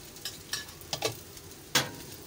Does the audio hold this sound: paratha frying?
yes